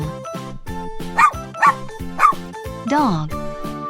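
A dog gives three short, sharp barks and then a longer, lower woof, all over a steady, upbeat children's music track.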